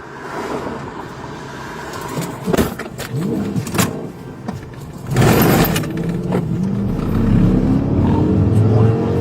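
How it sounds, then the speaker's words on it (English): A car flees police in a high-speed chase after pulling over, its engine roaring loudly and close, with sharp thumps and knocks before it settles into a sustained, rising drone. "The car pulled over and then suddenly fled."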